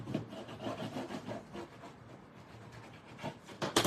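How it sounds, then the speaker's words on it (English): Bone folder rubbing firmly over paper glued onto chipboard for a mini album, a close, dry scraping rasp in repeated strokes, quiet overall with a sharper swipe at the end. "take my bone folder, just make sure all of that paper and glue is making good contact to the chipboard underneath, and a nice crease"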